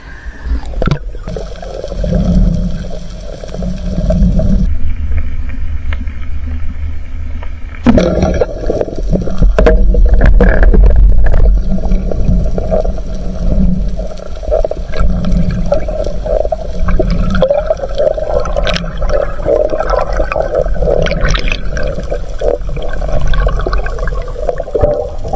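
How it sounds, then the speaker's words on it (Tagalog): A strong river current surges and gurgles close by, a churning, uneven wash of flowing water with splashes and bumps, loud and continuous. "Lakas ang agos."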